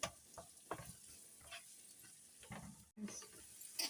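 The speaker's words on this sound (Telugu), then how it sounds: "కొంచెం పసుపు ఈ ఉల్లిపాయలు అయితే ఎర్రగా వేగాలండి" Onions fry with salt and turmeric in a pan for a cashew mushroom curry. A soft, continuous sizzle runs under occasional scraping stirs, with no talking.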